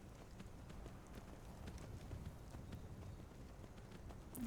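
Horse hooves clop steadily as a rider travels along a road in Skyrim, a quiet rhythmic beat set against soft outdoor ambience.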